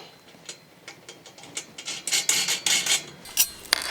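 Nuts and bolts with washers being tightened onto a cart-pulling robot, giving a run of close metallic ratcheting clicks and rubbing scrapes that quicken and grow louder, then a few sharp final taps.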